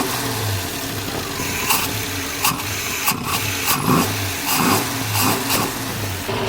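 A car engine with Holley Sniper EFI fuel injection idles steadily nearby on its first start, a low rumble punctuated by a few sharp clicks and clanks.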